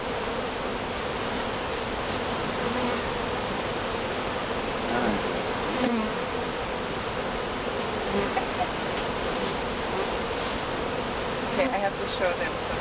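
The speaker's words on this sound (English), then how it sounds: "these bees are not committing hara-kiri on the knife. They are trying to eat all the honey off of it." Honey bees swarm around a top bar hive during a honey harvest, a dense, continuous buzzing held close and steady, with faint voices underneath.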